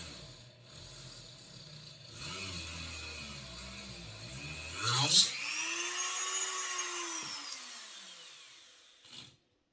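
A power drill bores a hole in an RC truck part while converting a nitro Traxxas X-Maxx 3.3 to electric. The motor whines and rises under load, then winds down to a fading hum near the end.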